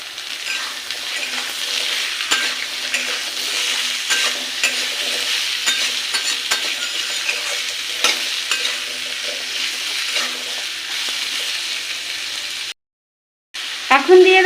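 Pumpkin is stir-fried in a pan for an egg and pumpkin dish, giving a steady close sizzle with stirring and scraping throughout. The sound cuts out briefly near the end, then a short voice follows.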